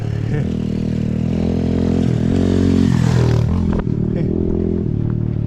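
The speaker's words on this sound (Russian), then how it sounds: "О, кто-то на квадроцикле, а не на мотоцикле." A quad bike drives past on a Crimean forest road with a loud, continuous mid-pitched engine drone, steady throughout with a brief dip near the end, close by and without talk.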